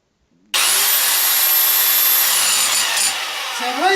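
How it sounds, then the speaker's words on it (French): A power drill run in play starts abruptly after a brief silence and then holds a loud, steady whine near the microphone for about three seconds before easing slightly at the end. "L'un de ses grands jeux, c'était de jouer avec la perceuse"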